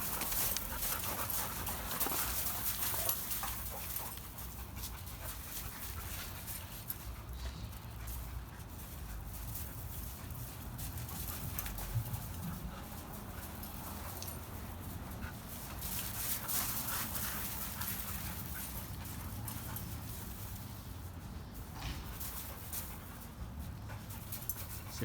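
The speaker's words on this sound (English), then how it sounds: "it really is one dog, Olga, expressing dominance on another dog, Lola, and Lobo, who's actually the most dom" Dogs play roughly in a yard, panting heavily and steadily throughout with occasional whimpers and scuffles, close by with no talking.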